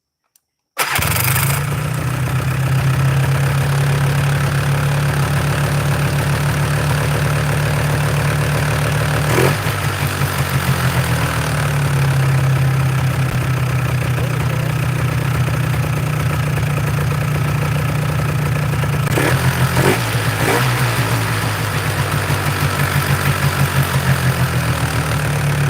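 A 4-wheeler ATV engine starts abruptly and settles into a loud, steady, close idle for the rest of the stretch. There are a couple of brief surges and knocks over the chugging drone, with no talking.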